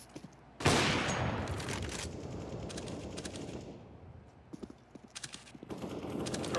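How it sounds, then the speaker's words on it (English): In a Counter-Strike match, a flashbang grenade goes off as a sudden loud blast that fades over about a second, followed by scattered gunfire and clattering game noise. "Throwing flashbang."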